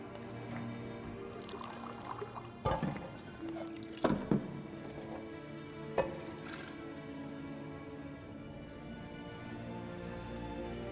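A drink is poured in The Witcher 3, a soft liquid splash and trickle with a few sharper clinks and knocks over quiet ambient tavern noise, close and fairly faint.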